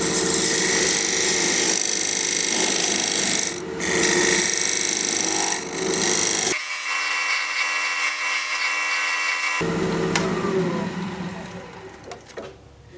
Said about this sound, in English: I'm going to use my Dovetail tool to create the dovetail on the side of the recess